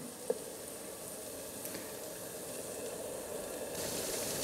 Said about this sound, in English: Got my bacon cooking.